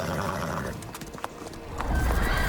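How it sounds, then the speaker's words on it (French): Brief rapid hoofbeats of a horse galloping in The Witcher 3, loud and close, with a whinny, swelling toward the end. "Allez, faut galoper."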